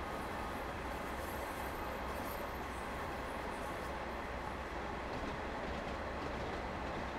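Train on the West Cornwall local line in the simulator game Train Sim World 2, a steady dense rumble and rolling noise heard from the cab, continuous and even throughout.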